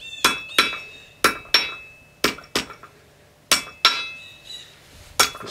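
A primitive adze blade being forged on an anvil, struck by a hammer about nine times in irregular pairs and singles. Each blow rings sharp and metallic, then quickly decays, close and loud with no talk.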